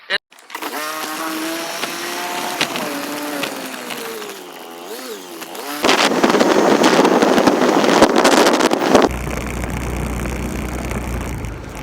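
Rushing wind buffets a microphone while riding a moving vehicle, loud and roaring through the latter half after an earlier stretch of tonal engine-like whine, close and continuous.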